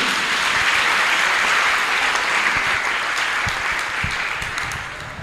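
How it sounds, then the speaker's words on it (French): A church congregation claps in sustained, dense applause, loud and full at first and gradually easing off toward the end. "Can you continue clapping for Master Jesus?"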